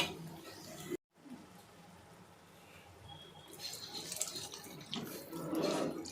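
Water poured from a small vessel into a cooking pot of dried-fish kuzhambu with field beans, a soft splashing pour rising toward the end over light kitchen background noise.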